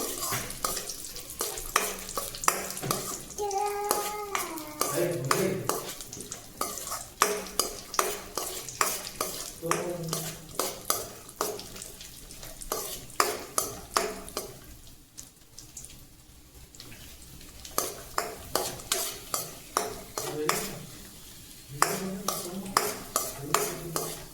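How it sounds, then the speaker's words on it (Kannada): Dry fruits frying in a pan over a low flame for carrot halwa, with steady sizzling and repeated scraping strokes of a stirring spoon running throughout, fairly close and unbroken by talk. "ಸ್ವಲ್ಪ ಹೊತ್ತು ಫ್ರೈ ಮಾಡ್ಕೊಂಡು ಲೋ ಫ್ಲೇಮಲ್ಲಿಟ್ಟೆ ಫ್ರೈ ಮಾಡ್ಕೊಳ್ರಿ"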